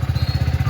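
A motorcycle engine being warmed up after a cold start runs nearby in a lumpy, rhythmic chug, each firing pulse clearly separated and loud.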